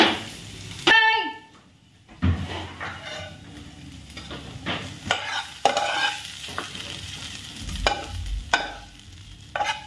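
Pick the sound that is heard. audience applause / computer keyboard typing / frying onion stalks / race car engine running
frying onion stalks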